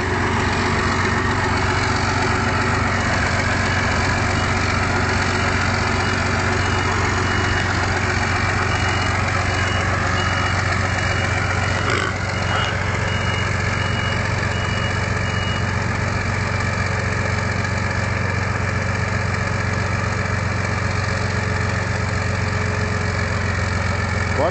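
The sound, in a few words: Volvo BM 800 tractor engine idling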